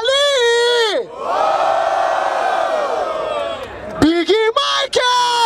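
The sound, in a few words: rap battle crowd cheering and shouting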